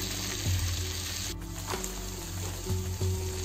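Brinjal and tomato pieces sautéing for sambar, a soft steady sizzle with a few spoon scrapes and knocks against the pan, close but fairly quiet, no voices.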